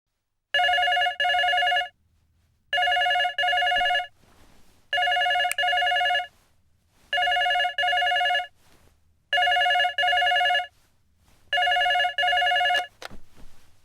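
A telephone rings in six evenly spaced double bursts, loud and close, with short silences between rings and no talking.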